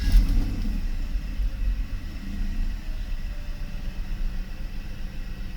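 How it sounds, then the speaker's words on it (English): A Mercedes 600SL starts from cold on a 65-degree day and settles into a steady, low, rumbling idle, close and continuous without any talking. "so I'm gonna start the car now."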